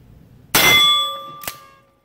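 A single loud metallic strike on the bell at a cancer treatment center rings out and decays slowly, with a lighter second tap near the end adding a brief clang.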